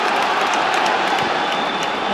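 A football stadium crowd at Sunderland v Everton keeps up a continuous loud roar, a dense wash of voices and noise with a few brief surges and nothing standing apart from it.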